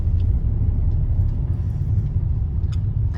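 A car cruises along a beach road in Kerala, giving a steady low engine and tyre rumble from inside the cabin, with faint small clicks and no speech.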